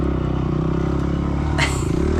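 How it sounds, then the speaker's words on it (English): Dirt bike engine held in first gear on a sandy woods trail, droning loud and steady with dense low harmonics throughout and a brief harsher burst near the end. "And you can hear the engine revving."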